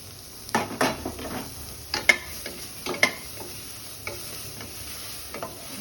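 Chopped onion is stirred into a dry pan with toasted cumin for an oil-free vegetable dish, giving irregular soft scraping taps of the spoon against the pan over a faint sizzle, with no talking.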